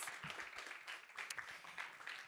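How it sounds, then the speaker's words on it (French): Applause from an audience at a French talk on podcasting: a dense, steady wash of many hands clapping at moderate distance, fairly soft and continuous for a couple of seconds, with no talk over it. "vous pouvez les applaudir, hein, ils le méritent"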